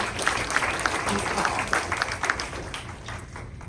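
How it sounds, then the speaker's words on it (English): An audience at a community meeting gives the Language Justice Committee a steady round of applause, moderately loud and continuous, with some voices underneath. "let's give the Language Justice Committee a round of applause for all of their work that they've done here"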